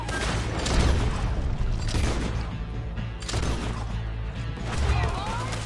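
Gunfire in Red Dead Redemption 2 rattles as dense, rapid volleys of shots, loud and close, building in bursts over a background of shouting voices.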